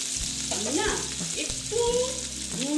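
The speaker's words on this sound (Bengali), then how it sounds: "পেঁয়াজটা লাল লাল করে ভেজে নিচ্ছি" Sliced onions frying in hot oil for a katla fish curry with mustard and poppy seed: a steady hiss and sizzle runs throughout, with faint tonal voice-like sounds rising and falling above it.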